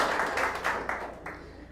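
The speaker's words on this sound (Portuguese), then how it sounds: "Palmas para a Nicole." Brief burst of audience applause with dense, close clapping that rises and tapers over a couple of seconds, with no talking over it.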